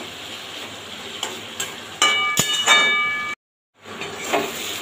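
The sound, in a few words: eggplant and water lily stems frying in fish oil, high heat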